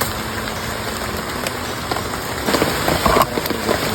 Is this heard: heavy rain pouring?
yes